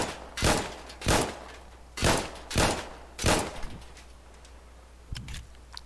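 An M1911 pistol in the video game Insurgency: Sandstorm is reloaded, producing a series of five sharp metallic clacks at roughly even intervals, followed by a quieter click near the end, close and crisp with no talk.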